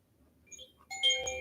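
Chimes ring out softly, a few faint bell-like tones at first, then a brighter shimmering cluster of struck metal notes swelling near the end of the brief moment.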